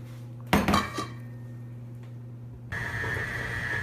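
A filled cheesecake pan rattles against a countertop as it is jiggled to settle the batter, a short burst of clattering metal followed by a quieter stretch, then a steady mechanical hum starts.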